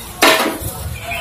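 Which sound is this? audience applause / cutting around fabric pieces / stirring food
stirring food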